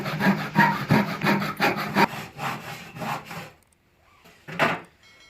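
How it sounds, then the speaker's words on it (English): Handsaw cutting through reclaimed wood in a steady run of back-and-forth rasping strokes, close and fairly loud, then a pause and one more short stroke near the end. "where I'm only going to use a handsaw"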